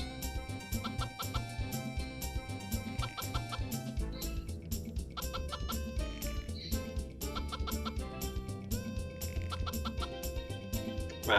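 Chickens cluck in the farming video game Harvest Moon 64, clipped digital chirps repeating in quick rhythmic bursts over cheerful game music, continuous and fairly loud with no one talking.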